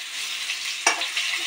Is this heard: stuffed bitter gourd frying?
yes